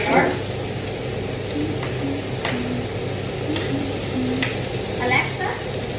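Chicken fried rice fries in a pan, giving a steady sizzle broken by scraping and stirring clicks from a utensil, with faint background noise throughout.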